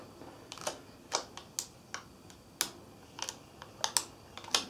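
Tape being peeled off a thrift store snare drum's badge lettering, heard as a string of short, sharp crackling rips and snaps at irregular intervals, close and fairly quiet, with no talking.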